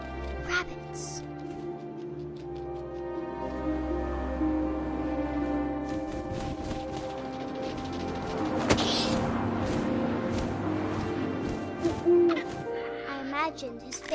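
An owl hoots in the video game What Remains of Edith Finch, low calls over wind and a steady musical background, with a voice talking now and then.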